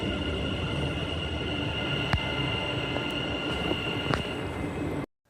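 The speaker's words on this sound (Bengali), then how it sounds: "এখানে কিছু দুতলা ট্রেন রয়েছে" A double-decker train in the Netherlands rumbles steadily past at close range, with a few sharp metallic clicks and squeals from the wheels, then cuts off abruptly near the end.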